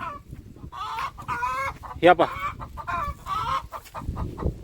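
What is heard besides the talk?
chickens clucking on a farm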